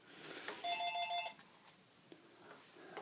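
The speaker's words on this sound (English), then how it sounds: "Hope the telephone is ringing." A telephone rings once, a brief, quiet electronic trill that repeats rapidly for under a second in a faint, still room, followed by a few soft incidental noises.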